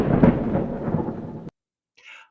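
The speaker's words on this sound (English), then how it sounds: "Thunder is an example of a natural sonic boom created by lightning." A deep, loud roll of thunder from a lightning storm rumbles steadily for about a second and a half, then cuts off abruptly, leaving a faint, brief trailing sound after a short silence.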